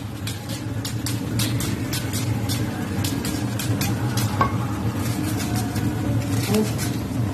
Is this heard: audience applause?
no